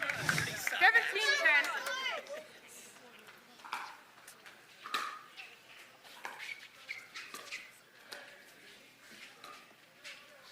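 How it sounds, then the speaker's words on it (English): A crowd at a professional pickleball match in Atlanta lets out a short burst of wooing at the start, then it fades to faint chatter and scattered court noise beneath quiet commentary. "you can hear the crowd"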